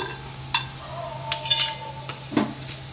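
Bay leaf, cinnamon and star anise frying in hot ghee inside a pressure cooker for vegetable pulao, with a light sizzle, a few sharp clinks of metal, and scraping stirs, no voices.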